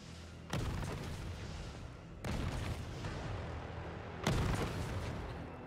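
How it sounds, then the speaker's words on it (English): Rocket launcher fire in Resident Evil 3 Remake: three heavy booms spaced a couple of seconds apart, each with a rumbling tail, fairly quiet overall with no talking. "Rocket launcher? Really?"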